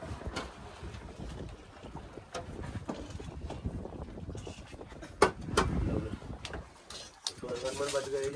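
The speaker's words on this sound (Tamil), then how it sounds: "கடல்ல காத்து இல்லாதனால வெக்க காத்து தான் வந்து ரொம்ப அதிகமா அடிச்சுக்கிட்டு இருக்கு" Hot wind blows over the sea on a fishing boat, buffeting the microphone in a constant rough rumble with gusty swells and the faint wash of water, while voices break through near the end.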